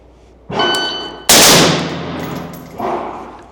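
Two sharp pistol shots crack out during a ready-up shooting drill, less than a second apart, the second one louder. A metallic clang rings after each shot and fades.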